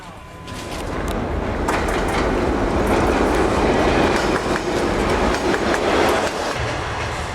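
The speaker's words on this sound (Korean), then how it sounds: "고대 상인들의 길을 이제는 기차가 오가고" Passenger train running along a railway on the Silk Road route near Xi'an, a loud continuous rumble with rhythmic clacking of wheels over rail joints, close and steady throughout.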